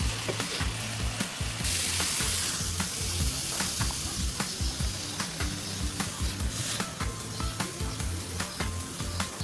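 Food sizzles and crackles in a pot as it fries with a little added water, a loud, close, continuous hiss broken by the regular knocks of stirring, and no voices are heard.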